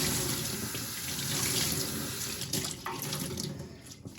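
Fabric dyed with alder cones being rinsed under a running tap into a sink, a steady close splashing gush of water with no voices.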